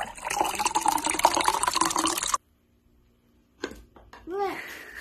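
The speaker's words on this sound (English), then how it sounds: "it's time to pour the vinegar inside" Vinegar poured into a homemade baking soda and vinegar powered toy boat, a steady close liquid pour for about two seconds, then silence followed by a voice and brief handling noises.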